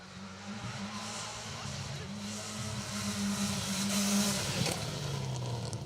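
A rally car on an asphalt stage of the Jim Clark Rally 2025 growls through a slow handbrake turn, its engine droning low and steady before revving up louder and easing off near the end.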